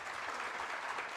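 A short burst of applause from a small group at a town hall meeting, fairly faint and steady, with no voices.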